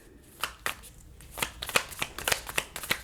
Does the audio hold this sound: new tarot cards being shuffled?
yes